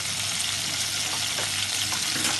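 Garlic and ginger fry in a pan for prawn karahi, producing a dense, even hiss of hot oil that stays loud and unbroken throughout.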